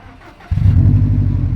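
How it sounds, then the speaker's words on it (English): A Subaru STI engine cold-starts close by: a quiet lead-in, then a sudden low rumble that settles into a steady, throaty idle. "wants to get a cold start for the boys"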